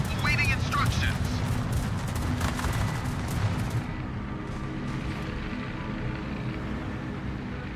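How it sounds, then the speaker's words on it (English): Anti-aircraft guns on warships fire in World of Warships, a dense, continuous rattle of rapid shots and muffled booms running throughout, fading slightly toward the end. "Provide anti-aircraft fire support."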